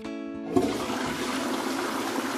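Ariston ceramic toilet flushing in a surface wash test: a tonal hum gives way at about half a second to a loud, steady rush of water that holds to the end.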